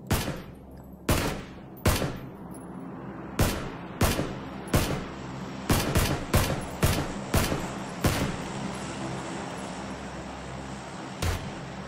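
Gunfire in the video game PUBG (PlayerUnknown's Battlegrounds), with about a dozen sharp, loud single shots fired at an irregular pace, some in quick pairs, over a steady background hum.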